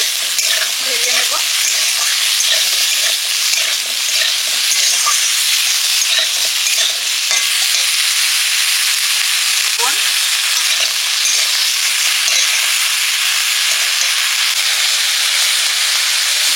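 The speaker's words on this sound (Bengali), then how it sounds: "পেঁয়াজের সঙ্গে আলু আর বেগুনটা একটু ভেজে নেব।" Potato and eggplant fry with onion and spices in hot oil, making a loud, constant hiss and sizzle close by, with faint stirring scrapes and no speech.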